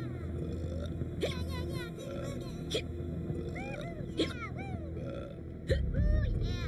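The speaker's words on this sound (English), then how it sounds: "He has hiccups, so we need to go that way." Video game character in Bang On Balls Chronicles (Viking Invasion level) hiccuping and burping, several short abrupt gulps spread over busy game music and effects.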